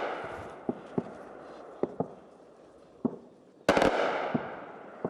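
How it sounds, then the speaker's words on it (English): Sharp, sporadic bangs crack out one after another, ending in a louder burst of several shots, like gunfire echoing outdoors at a distance: Ukrainian troops firing at a suspected Russian drone near Kupiansk. "So the gunfire you can hear is Ukrainian troops trying to shoot down a suspected Russian drone"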